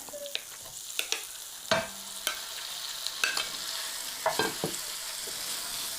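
Chicken pieces fry in melted butter in a pan, a soft continuous sizzle broken by scattered clinks and scrapes of stirring, close and fairly quiet.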